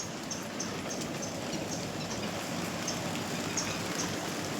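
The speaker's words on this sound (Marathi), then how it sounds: "दिवसभर पाऊसच राहणार आहे" Steady rain falling through a wet village day, a continuous soft hiss of drops with a faint patter on surfaces and no voices.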